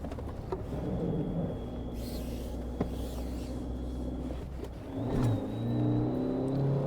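A car engine labours in low gear up a steep mountain road near Nako, a steady close drone with a brief swell of revving toward the end, no voices.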